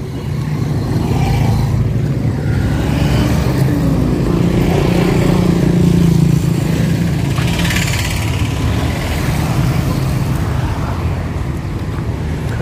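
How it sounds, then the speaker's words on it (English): A motorcycle engine runs steadily nearby in Kisauni, Mombasa, Kenya, with a low rumbling drone that swells slightly in the middle of the clip before easing off. "Crazy motorcycle driver."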